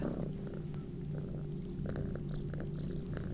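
A cat purrs steadily and close by in a continuous low rumble, with faint clicks and small movements scattered over it.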